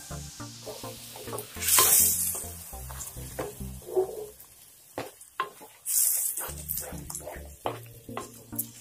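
Chicken curry in a pan for a Kerala-style roasted-coconut curry sizzles and bubbles, with a spoon scraping and clanking against the pan in bursts and a low steady hum underneath.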